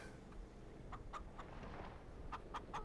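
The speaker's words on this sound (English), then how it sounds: "them chickens making a lot of noise up in yo" Chickens in the Farming Simulator 25 farm game cluck in short bright bursts, a handful of quick clucks scattered over a low steady rumble, faint and somewhat distant.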